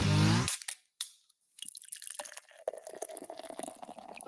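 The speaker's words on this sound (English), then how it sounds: "As I pour one out the door on the way out" A drink is poured out a door, giving a few soft drips and wet splashes after a loud burst at the start, then a thin, scattered liquid patter that continues quietly to the end.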